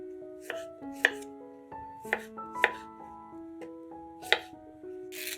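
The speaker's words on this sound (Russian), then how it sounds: "300 грамм клубники моем и нарезаем небольшими кусочками." A knife chops fresh strawberries into small pieces on a board, about seven crisp, uneven cuts over soft melodic background music.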